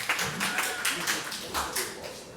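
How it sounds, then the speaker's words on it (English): Audience clapping at an outdoor music event at Basecamp in Mayodan, North Carolina, a loose scattering of claps with distinct individual hand slaps, moderately close, with voices chattering beneath. "So y'all give yourselves a round of applause for showing up."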